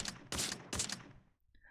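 Gunfire in the Free Fire video game on the Bermuda map, with three sharp bursts spaced evenly apart, a brief quiet gap, and then a fourth burst at the end.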